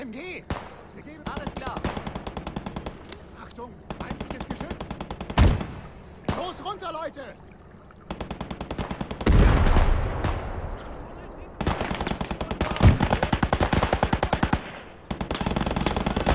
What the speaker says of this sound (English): Lots of MG fire.